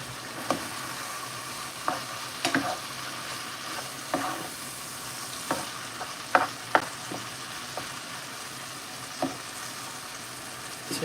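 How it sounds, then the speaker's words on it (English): Meat browning in a pan for cowboy beans, a soft continuous sizzle broken by about a dozen sharp scrapes and clinks as it is stirred at an uneven pace. "Getting this browned up."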